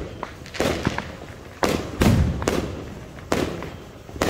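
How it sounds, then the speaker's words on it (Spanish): Fourth of July firework rockets burst overhead in a series of loud booming explosions, about five heavy reports spaced unevenly with crackling decay between them, strong and near. "Estos cohetes, entre más fuerte y más alto sea el tronido,"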